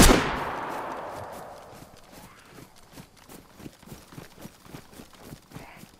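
Gunfire in the video game DayZ: one sharp shot decaying into a long echoing tail, then a rapid run of softer, evenly spaced reports or footfalls.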